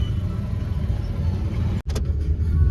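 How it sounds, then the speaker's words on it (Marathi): Steady road traffic rumble with a car engine droning close by, a brief dropout near the end, no talk over it. "too much traffic"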